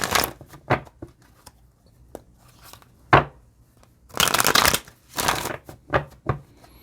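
Tarot cards get shuffled in irregular bursts, with papery riffles and sharp card snaps, up close and without any talking.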